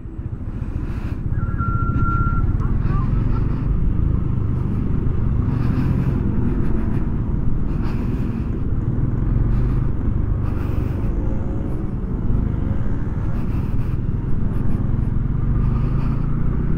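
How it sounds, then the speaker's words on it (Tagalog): Road traffic crawls past a bridge under construction as a steady low rumble of engines fills the scene, with a motorcycle idling close by and brief higher tones and beeps flickering through, and no talk. "Traffic pa rin dito, ginagawa pa rin yung tulay."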